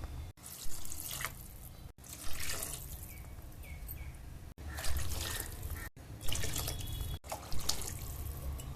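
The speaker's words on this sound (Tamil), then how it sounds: "ஆறு டம்ளர் தண்ணி ஊற்றிக்கணும்" Water pours and splashes into a pot of rice in several close bursts, with brief pauses between pours.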